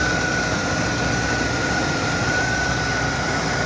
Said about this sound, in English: Comment me your thoughts on the engine's sound.